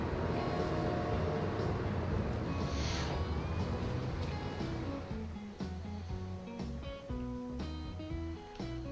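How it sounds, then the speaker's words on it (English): A freight train in the railway video game Transport Fever rumbles steadily along the tracks, a continuous rolling drone that thins out midway under faint game music tones. "Go little train, go, you're my favorite now."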